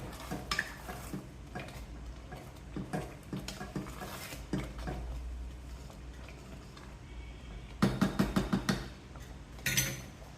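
A spoon stirring sweet pongal made with basmati rice in a pot over a low flame, with soft scraping and clinks throughout and a burst of sharper, rhythmic metallic knocks near the end.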